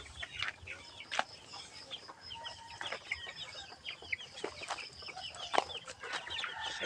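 Chickens clucking inside a backyard coop in the Philippines, scattered short clucks and calls from several birds, fairly close, with a rooster-like call among them and no talk.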